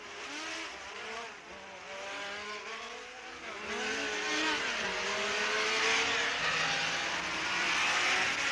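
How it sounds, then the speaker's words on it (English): Race cars pulling away at the start of the 1968 Le Mans 24 Hours, several engines revving and rising in pitch as they accelerate, overlapping and growing louder, with no talk. "The flag has been waved and away we go for the 24 Hours of Le Mans"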